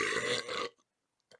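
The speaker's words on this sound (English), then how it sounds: "a good belch off of a chug burp" A single loud, close belch rumbles out after chugging beer through a straw, lasting over half a second, then a couple of faint small sounds follow in near silence.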